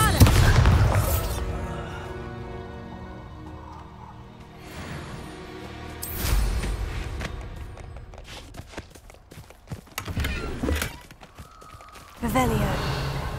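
Bombarda spell explosion in the Hogwarts Legacy video game: a heavy booming blast opens, with further thuddy impacts near 6 and 12 seconds amid footsteps and game effects, the loudness rising and falling.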